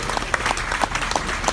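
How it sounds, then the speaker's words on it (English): Audience applause at a marriage game show aboard the Sapphire Princess cruise ship, a crowd clapping steadily with scattered sharper claps standing out. "Can we have a round of applause for our ladies?"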